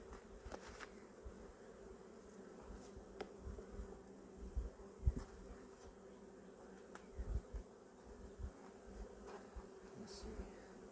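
Bees buzz steadily around an opened beehive during a first spring inspection, a continuous low hum with scattered louder passes of individual bees close by, fairly faint overall and with no talking.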